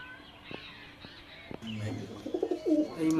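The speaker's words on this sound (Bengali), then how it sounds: "কালদমা মাদি আছে এটা, আস্তাদ লাইনেরই পায়রা সব।" Arshad line pigeons kept for sale at a market stall cooing nearby, soft throaty coos rising toward the end after a few light taps.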